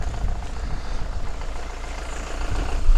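A tow truck's heavy engine idles with a low, uneven rumble, swelling slightly at the end.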